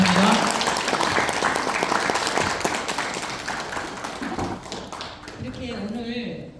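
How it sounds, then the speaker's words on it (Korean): Applause from an audience at an invited lecture and performance in Flushing, New York, as a performer stands, a dense steady patter of clapping that fades out, with a voice speaking near the end. "한번 일어나실 때 박수해 주시기 바랍니다."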